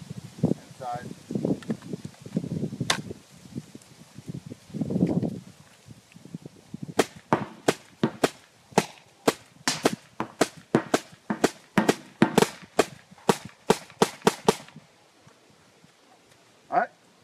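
An MCS Vortex air-powered gun emptying a full magazine, with about twenty sharp, closely spaced cracks in an uneven rhythm after a stretch of handling noise and talking, then a final lone shot.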